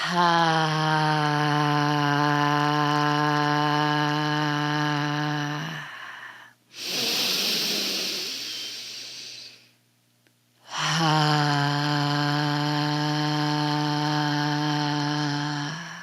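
A breathing exercise for vagal toning in which a person exhales slowly while voicing a sustained, steady vocal tone. Two long toned exhales of about six seconds each sit on either side of a noisy breath, with no talk.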